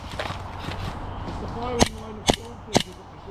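Airsoft gunfire at an outdoor skirmish site in High Wycombe: three sharp, evenly spaced snapping shots ring out close by over a steady murmur of background noise.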